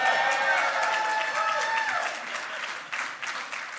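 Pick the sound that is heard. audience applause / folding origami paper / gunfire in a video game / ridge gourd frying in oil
audience applause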